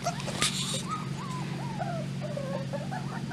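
Five-week-old Bernese Mountain Dog puppies whimper and yip in a series of thin, wavering whines over a steady low hum, close and fairly quiet, with no speech.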